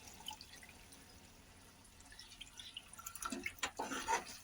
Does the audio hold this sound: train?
no